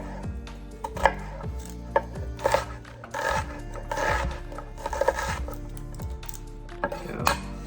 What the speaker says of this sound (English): I'm doing the onion first because I can cut it quicker than my carrots